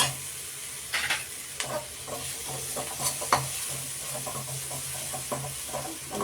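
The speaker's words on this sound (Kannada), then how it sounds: "ಇವಾಗ ಮೆಂತ್ಯ ಸೊಪ್ಪನ್ನು ಹಾಕ್ತೀನಿ. ಇದನ್ನು ಫ್ರೈ ಮಾಡ್ಕೊಳ್ಳೋಣ." Fenugreek leaves fry in a hot tempering in a pan, giving a steady close sizzle and hiss with a few louder spatters and the scrape of stirring.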